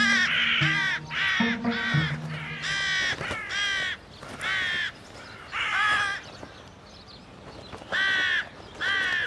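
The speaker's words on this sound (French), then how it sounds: "Comme tous les corvidés, la corneille est particulièrement intelligente." Crow in an urban Île-de-France setting giving a series of loud, close, harsh caws, about eight calls spaced irregularly across the stretch, with a few lower rattling notes near the start and no talk.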